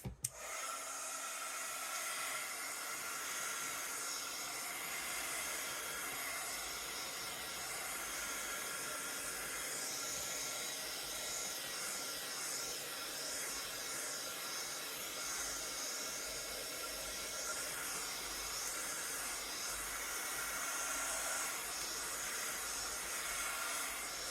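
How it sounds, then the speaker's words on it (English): A craft heat tool blows a steady, close, loud hiss of hot air to dry ink, unbroken for the whole stretch and with no talking. "what I want to do now is use my heat tool just to dry this off."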